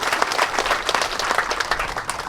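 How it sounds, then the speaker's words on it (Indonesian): Applause from a gathered crowd at an official ministerial visit in Toinunuh, TTS, NTT, a steady patter of many hands clapping at moderate level for a couple of seconds with no speech over it. "Saya kira tepuk tangan juga."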